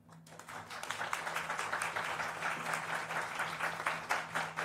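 Audience applause greets Sviatlana Tsikhanouskaya, leader of democratic Belarus, as she takes the floor at the LAMPA Festival discussion; steady, dense clapping from a crowd continues throughout with a low hum beneath.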